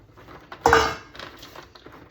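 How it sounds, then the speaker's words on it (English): Coated food pieces set down onto a metal pan, one clear clattering clink of metal followed by a few lighter taps and scrapes, close by with no talking. "And then I'm gonna layer them on this pan here."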